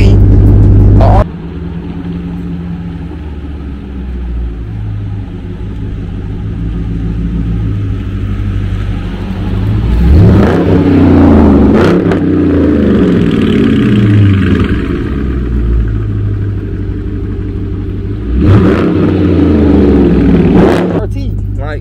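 Loud Dodge R/T car engine and exhaust revving, rumbling steadily with surging rev bursts, while someone talks over it.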